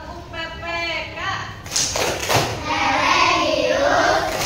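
In an Indonesian primary school classroom, a teacher's chanted call leads into a rhythmic burst of group clapping, a few sharp close claps followed by children's voices continuing the chant.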